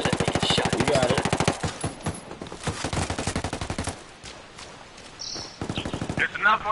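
Rapid automatic gunfire from a PS4 shooter video game, loud bursts of fast repeated shots in several volleys with short gaps between them.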